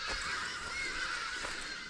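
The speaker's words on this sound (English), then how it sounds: "The birds are there." Geese honk by a riverbank in Machakos, Kenya, a busy overlapping chorus of calls at moderate distance that stays fairly quiet and continuous, with no voices.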